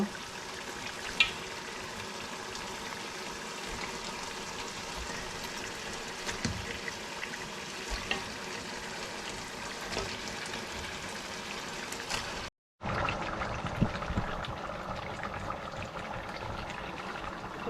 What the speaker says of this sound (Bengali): এখন বিফগুলো দিয়ে দেবো আমার বিফগুলো অনেক বড় বড় পিস করে নিয়েছি যে হাড় চর্বি সহ